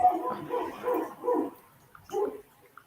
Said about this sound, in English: I hear his doggy.